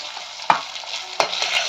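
Fried fish being lifted out of a pan of hot oil gives a soft, close frying hiss. Two sharp scrapes or clinks punctuate it, and no one speaks.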